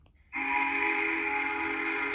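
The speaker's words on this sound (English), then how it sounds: "I think it's something of a whistle." A train whistle sounds one sustained, steady tone that starts suddenly after a brief quiet and holds loud and fairly close to the end.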